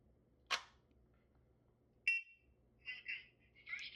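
A First Alert carbon monoxide and smoke alarm gives a sharp test squawk, then a shorter chirp and a few quieter electronic beeps, close and alone against a quiet room.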